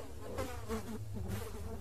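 Flies buzz in a Roblox game, a close, droning insect hum that swells and fades in short pulses over a couple of seconds.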